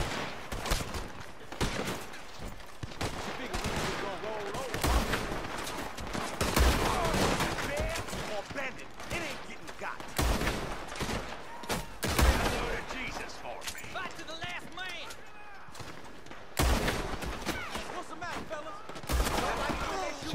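Gunfire in the video game Red Dead Online, with repeated shots and bursts of rapid fire over about twenty seconds at varying loudness, mixed with game noise.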